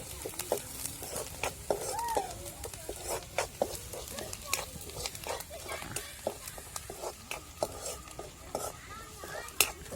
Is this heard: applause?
no